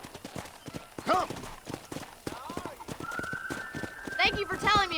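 Rhythmic clip-clop of horse hooves trotting close by in the video game Red Dead Redemption, with a horse whinnying and a voice calling out over the steps.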